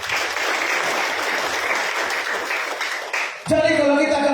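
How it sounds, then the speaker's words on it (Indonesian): A church congregation at a Sunday service claps, a steady broad ripple of applause that cuts off sharply as a voice and music come in. "Tepuk tangan dulu untuk Tuhan."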